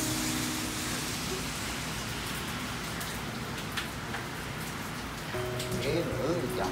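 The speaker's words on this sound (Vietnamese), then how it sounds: "Tại giờ trời mưa rồi, bó tay rồi." Steady rain falls outside a home in a continuous dense hiss, with a voice heard faintly toward the end.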